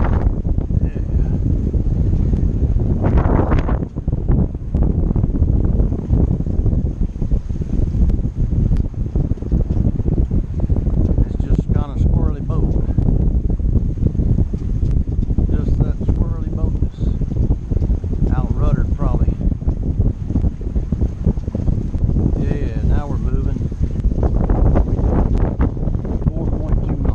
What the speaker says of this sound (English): 7 knots of wind.